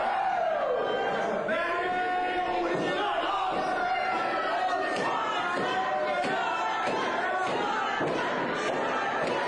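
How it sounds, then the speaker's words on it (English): Wrestling fans cheering for Shotgun Stevens at a live match, a loud continuous crowd roar with rhythmic thuds and slaps throughout, under a commentator talking. "The fans are cheering for Shotgun Stevens."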